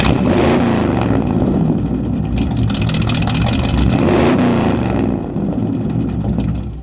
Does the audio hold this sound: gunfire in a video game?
no